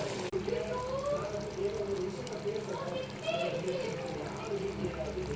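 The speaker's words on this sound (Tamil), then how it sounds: "தேவையான அளவு தேங்காய் ஊற்றிக்கலாம்." Ground coconut paste poured into a mutton-style gravy in a home kitchen, giving a soft liquid trickle and slosh that runs steadily under a low background hum, close and fairly quiet.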